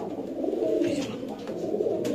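Fancy pigeons coo softly while being released into a cage, a steady low cooing under a constant hiss of background noise throughout.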